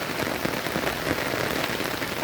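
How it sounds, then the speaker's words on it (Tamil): Heavy rain pours steadily in Salem, a dense, continuous hiss of drops drumming on surfaces close by, with no voices. "பாருங்கள் மழை பெஞ்சிக்கிட்டே இருக்குது."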